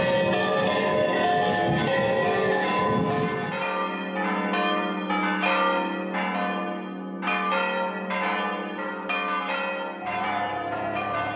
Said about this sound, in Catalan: aquestes són les campanes